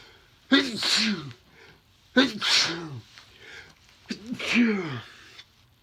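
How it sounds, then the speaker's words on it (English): Three loud sneezes in a row, each a sharp burst with a short pause between, close to the listener. "I'm just sneezing because I got a little kitty hair in my nose."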